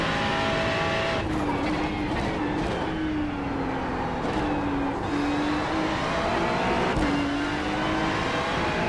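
A Ferrari 296 GT3 race car in the iRacing sim screams through a qualifying lap of the Nürburgring Nordschleife. The engine note rises and falls through gear changes, loud and close, with faint tire squeal.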